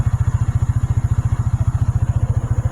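A Chinese-made AX200 scooter motorcycle engine chugs up close in a rapid, even low thumping pulse, loud and steady with no talk.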